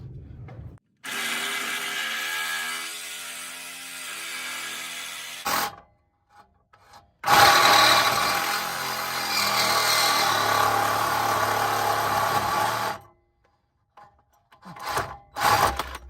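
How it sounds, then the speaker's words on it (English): A small reciprocating saw cuts off metal tubing in two long bursts of harsh, buzzing rasping, loud and close, separated by a pause, followed by short scrapes and clatter. "You did a good job, little reciprocating saw."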